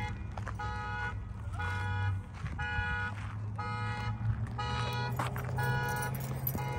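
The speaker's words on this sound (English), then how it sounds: "Hold on, my alarm's going" A car alarm blares nearby in repeated rhythmic bursts of tonal honking and warbling, with a low rumble of engine or traffic underneath.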